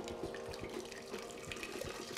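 Boiling water poured from a kettle over sweet potato in a steamer pan, a steady close splashing gush running throughout.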